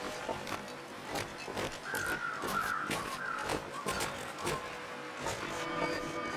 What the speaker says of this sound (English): I hear those crows.